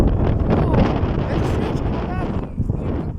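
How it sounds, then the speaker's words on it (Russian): Strong, gusty wind buffets the microphone outdoors on a hot day, a loud continuous roar throughout with a voice speaking under it. "Ну так, ветер сильный."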